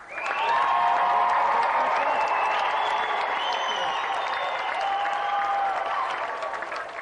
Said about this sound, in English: let's have another big round of applause for today's guest